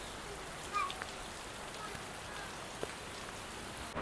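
Rain pours down in a constant close-up wash of patter, with a few slightly louder drop impacts, and no voices.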